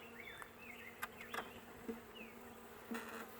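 Honeybees buzzing around an open hive during a brood inspection, a steady low drone with individual bees passing close and a few sharp knocks of equipment.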